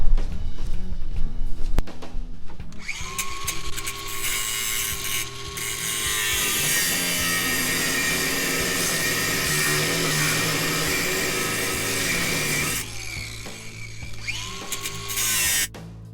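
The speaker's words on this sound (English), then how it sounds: "I think I'm gonna have to get the grinder" A grinder cuts off parts on a 1975 Jeep Cherokee Chief during teardown, with a loud sustained whining, grinding roar that runs for about eleven seconds, preceded and followed by clanking tool handling and a second short spin-up.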